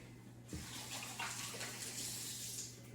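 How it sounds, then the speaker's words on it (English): Tap water runs steadily into a sink as hands are rinsed in a kitchen while fish is being cooked; the gush starts abruptly and continues as a constant, fairly loud hiss with no talking. "Wash my hands off."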